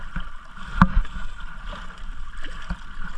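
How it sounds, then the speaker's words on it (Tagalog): Water sloshing and slapping against a fishing kayak in strong waves at sea, a continuous choppy wash with one sharper splash knock near the start. "Malakas naman yung alon."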